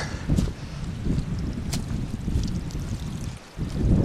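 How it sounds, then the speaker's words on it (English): Creek water runs over slippery rocks in a hiking creek bed, a continuous close rushing wash with gusty wind noise on the microphone and a brief dip near the end. "You can probably hear the water."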